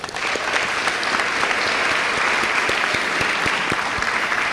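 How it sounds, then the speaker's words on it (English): Audience applause at a high school awards evening, a dense, steady clapping from a large crowd sustained throughout without pause. "Give them a round of applause."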